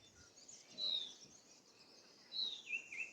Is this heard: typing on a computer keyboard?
no